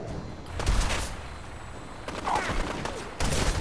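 Raiders fire on the player in the video game Fallout 4, several bursts of rapid gunshots with booming low thuds, loud and close, separated by quieter stretches of background game noise.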